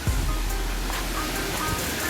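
Rushing water from a waterfall in the Bavarian Forest fills the scene with an even hiss, nearby and steady, with a brief thump at the start and no speech.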